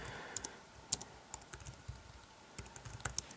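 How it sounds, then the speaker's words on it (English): Typing on a Logitech Ultrathin keyboard for the iPad mini, a quick irregular run of light plastic key taps with a few sharper clicks, close and clear with no talking. "So let's go ahead and type"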